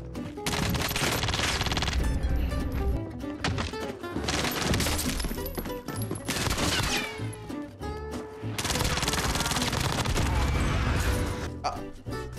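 Repeated loud, punchy Tundra sniper rifle shots in Warzone, several blasts with bolt and mechanism clatter in between, amid busy battle noise and constant game sounds.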